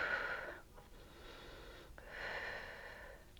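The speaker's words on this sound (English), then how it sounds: "You can probably hear my labored breath" Faint, labored breathing during an upper body strength and conditioning workout, with a few raspy inhales and exhales spaced across a few seconds.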